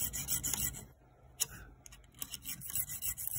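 Rough, raspy rubbing strokes of a bone guitar saddle being sanded against sandpaper, repeated in an uneven back-and-forth rhythm close by.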